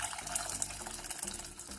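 Boiling water is poured into a small pot, a brief steady splashing gush of liquid heard close up and alone.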